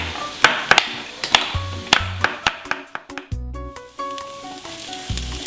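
Onions fry to light gold in a pan for vegetarian Armenian manti, sizzling close and steady, broken by sharp spoon taps and clinks against the pan.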